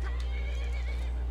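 A horse in the video game Skyrim whinnies loudly and close, a quick shrill neigh over a steady low game hum, with faint hoof clops.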